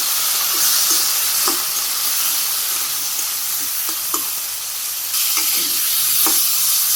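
Potatoes frying with salt, green chilies, turmeric and chili powder in a Bangladeshi village kitchen: a loud, continuous sizzle with repeated close spoon scrapes and taps as they are stirred, with no talking.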